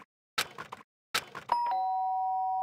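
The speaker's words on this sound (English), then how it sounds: "The sharp sound of the doorbell pierced my sleepy haze and pulled me back to the real world." A doorbell in Danganronpa: after two short bursts of sound, a clear bell tone rings out and then sustains, bright and close, fading slowly into silence.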